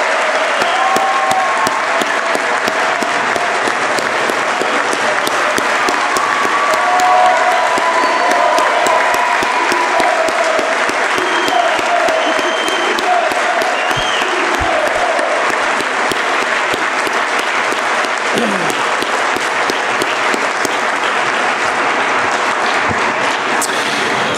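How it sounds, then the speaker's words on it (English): A large audience at a community salute to service event gives sustained, loud applause for service members, a dense clapping roar that holds steady throughout with a few faint cheers. "Let's give them all one more round of applause."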